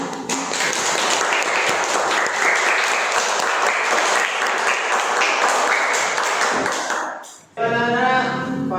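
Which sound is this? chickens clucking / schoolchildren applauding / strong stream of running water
schoolchildren applauding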